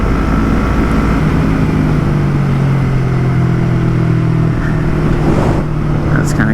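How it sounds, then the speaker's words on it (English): A Yamaha MT-03 motorcycle with a full Akrapovic exhaust drones steadily at riding speed, loud and close, with engine pitch shifting slightly under heavy wind noise. "now with the full Acra exhaust on it, it's a lot of change all at once, especially with the sound."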